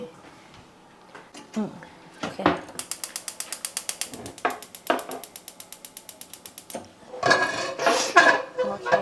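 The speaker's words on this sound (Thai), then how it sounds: "เดี๋ยวเรามาเริ่มเปิดเตากันเลย" Rapid clicking bursts from a gas stove igniter being switched on in a kitchen, repeated several times with a roaring whoosh as the flame catches, while someone talks.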